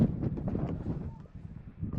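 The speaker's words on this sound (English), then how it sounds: "walking's a wee bit difficult in this wind." Strong gale-force wind on a big mountain buffets the microphone in a loud, continuous low roar that swells and dips across the whole stretch.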